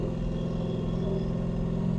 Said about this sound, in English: So we're moving right there. A little half throttle.